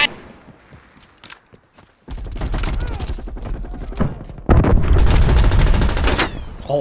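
Rapid automatic AK rifle fire in the Call of Duty Cold War multiplayer game, loud bursts of dense shots after a quieter stretch, the heaviest volley near the end, with faint game voices in the background.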